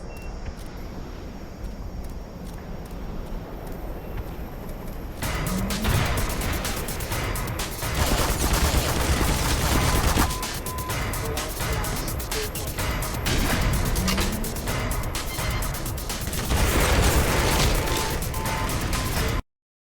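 Laser-guided rockets launch and burst in the Black Mesa shooter, with loud whooshing blasts and booming impacts arriving in several waves over dense, continuous in-game noise.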